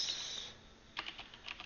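A quiet, brief burst of computer keyboard typing, a handful of quick keystrokes clustered near the end after a faint hiss.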